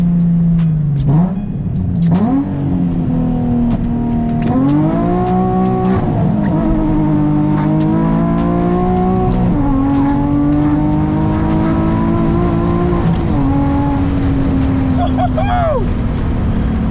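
Nissan 350Z HR with a full single-exit exhaust doing a first-gear pull on a winter drive, the engine loud and close, revving up in repeated rising sweeps with brief shift dips, a voice talking over it.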